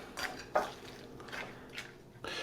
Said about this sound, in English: I got my salad all mixed up